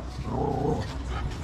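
A hungry dog growling in the flooded riverside neighborhood of Zona Baja Belén in Iquitos, Peru: one continuous, low, close rumbling growl lasting about a second and a half, with no talk over it.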